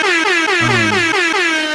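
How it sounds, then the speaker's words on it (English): Loud blaring air horn sounding continuously, a single sustained harsh blast with a brief stepped drop in pitch partway through, standing alone without speech. "Let me get an air horn going."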